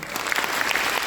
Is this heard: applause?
yes